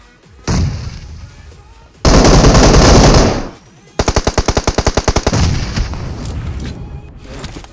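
Loud game gunfire from PUBG Mobile: a burst of shots, a sustained heavy volley, then a rapid rhythmic string of automatic rounds. Firing continues after the bursts and fills the foreground.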